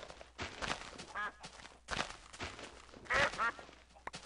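Ducks quack in the Minecraft YogsBox modpack, a few short nasal calls mixed with game footsteps and thuds, fairly quiet, with no talking.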